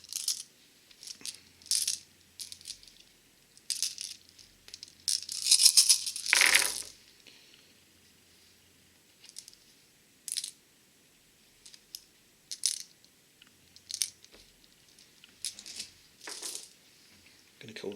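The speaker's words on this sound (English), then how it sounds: "So let's roll all these dice and then get rid of everything that's not a 5 or a 6." A handful of dice rattle and clatter across a tabletop during a tabletop wargame, in bursts of sharp clicks and knocks, one longer roll in the middle, with quieter pauses between.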